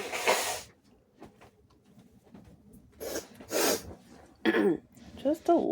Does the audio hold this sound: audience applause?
no